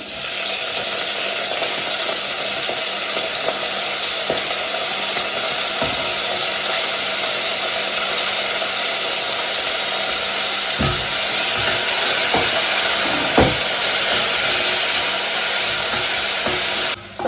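Onions frying in coconut oil in a hot pan give a steady, loud broadband sizzle throughout, with a few faint clicks and knocks near the end and no talking.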